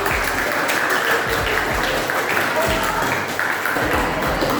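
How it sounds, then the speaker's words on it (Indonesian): Ninth-grade students clapping together in a classroom discussion, a busy, fairly loud patter of hands with some thumps and faint voices mixed in. "Tepuk tangan."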